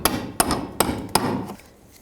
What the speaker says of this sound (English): you can take a punch, just punch them the rest of the way in